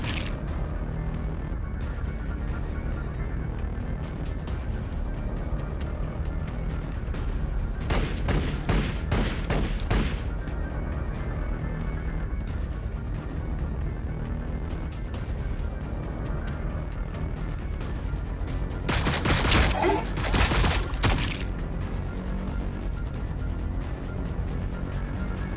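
Gunfire in the strategy game Warhammer 40,000: Battlesector, with two dense volleys of rapid shots, the first around a third of the way in and a louder, closer one later, over a steady low rumble of battle ambience.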